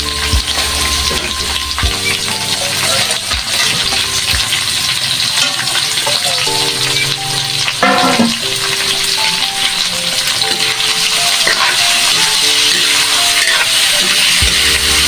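Pork frying in a pan for pork menudo, a loud continuous sizzle with stirring clatter and a few clinks of a utensil against the pan, no talk.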